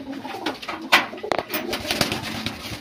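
Fantail pigeons with newly hatched chicks coo softly at close range in short, throaty bursts, mixed with light rustling and flutters.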